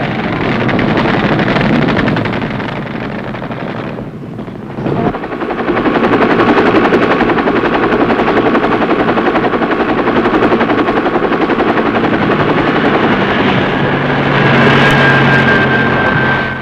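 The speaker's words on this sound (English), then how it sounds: "In less than 7 minutes after the pickup, Medevac has brought Dave Baggett to touchdown at C Company of the 3rd Medical Battalion" A medevac helicopter near a medical battalion landing zone roars loudly and continuously throughout, its rotor and engine noise steady apart from a brief dip midway.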